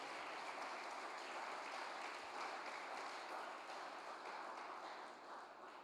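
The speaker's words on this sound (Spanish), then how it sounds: "Denle palmas al Señor" Church congregation clapping together, a dense, steady wash of applause that stays fairly faint and continuous for several seconds, with no talk over it.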